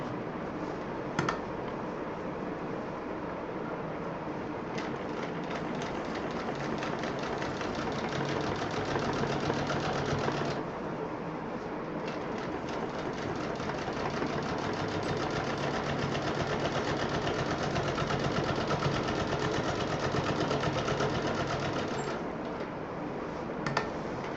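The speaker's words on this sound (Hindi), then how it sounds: "इसके ऊपर यहाँ पर एक महीन सिलाई चला देंगे ताकि ये मजबूत हो जाए" A sewing machine runs steadily, stitching a fine reinforcing seam over a joint on a homemade multi-purpose bag, a continuous dense mechanical whir with brief pauses near the start and around the middle.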